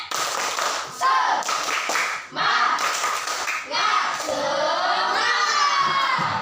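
A primary-school class chants loudly together while clapping in rhythm, children's voices shouting in unison with rapid handclaps and thumps, filling the classroom in repeated bursts.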